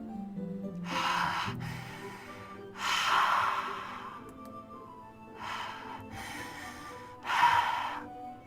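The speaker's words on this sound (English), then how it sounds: "It sounds like breathing. A sharp inhale, like someone is sucking the air through their teeth." Sharp hissing inhales in the video game Doki Doki Literature Club, like air sucked through teeth: four or five separate breaths, some drawn out, close and fairly loud over a faint background tone.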